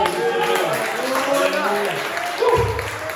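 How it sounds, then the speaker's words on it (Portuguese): Church congregation applauding during a worship service, a dense wash of clapping with voices and singing mixed in throughout, growing louder near the end. "Aplauda o Senhor"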